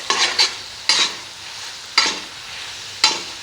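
Tawa kaleji (goat liver) with spices being stirred on a hot griddle: four separate scraping spatula strokes spaced about a second apart over a faint steady sizzle, close and clear with no talking.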